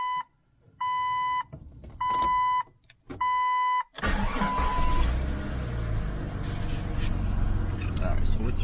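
A Jeep XJ fired up on a freezing morning of about 22 degrees: four electronic warning chimes, then the engine cranks, catches and runs in a loud, steady roar.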